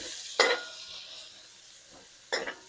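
A pot of soup with thyme and Swiss chard being stirred, two brief close scraping strokes of a spoon against the pot over a faint steady simmer, no talking.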